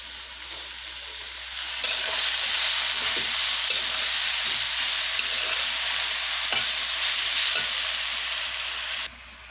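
Sweet jute leaves fry in a pan, a steady close hiss of sizzling with periodic stirring scrapes throughout, ending abruptly; no one talks.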